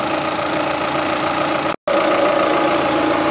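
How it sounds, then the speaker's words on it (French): A 2006 Audi A3 Sportback engine idles steadily with a constant rumbling hum, close by, warming up, broken only by a brief cut of silence partway through. "on va laisser monter en température le moteur."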